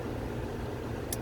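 A car engine idling in the rain, a steady low rumble with a soft hiss of rain on top, constant and close, with no speech.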